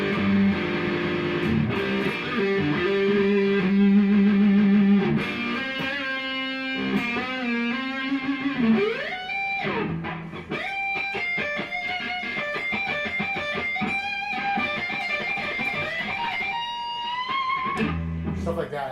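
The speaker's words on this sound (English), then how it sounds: "Let me actually switch to the distortion." Distorted electric guitar playing blues shred riffs and sustained bends, a steady crunchy tone throughout with brief sliding notes, loud and close.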